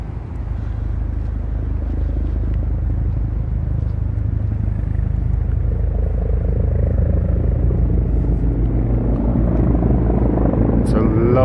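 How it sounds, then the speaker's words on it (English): A low-flying helicopter passes over Riverside Park South in New York City, a loud continuous rotor rumble that builds gradually, with people talking throughout. "It's a low-flying helicopter."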